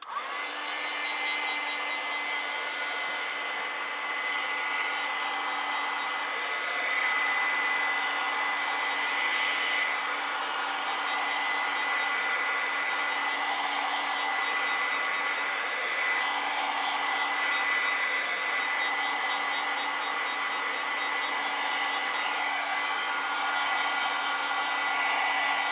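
A hair dryer runs continuously, blowing across a watercolor flower print with a steady, even whir at moderate volume and no talking.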